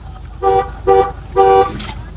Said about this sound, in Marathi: असं हॉर्न वाजव